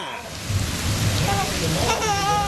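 Florida thunderstorm with steady rain and a low rumble of thunder, close and continuous, while a baby babbles over it.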